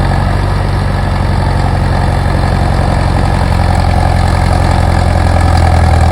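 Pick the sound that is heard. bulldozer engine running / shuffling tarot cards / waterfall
bulldozer engine running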